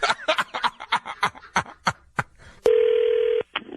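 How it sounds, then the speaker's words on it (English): Rapid touch-tone dialing beeps in a quick irregular run, then a single steady ring tone about a second long and a short final beep, close and clear. "Call him back, Cat."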